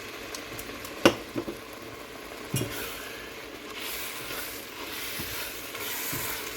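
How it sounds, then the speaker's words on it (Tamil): Ground spice paste being stirred into a crab curry in a pan, with a steady low sizzle and bubbling, a couple of sharp utensil knocks against the pan near the start, and continuous scraping and mixing, no talk. "சேர்த்துட்டு நல்லா மிக்ஸ் பண்ணணும்"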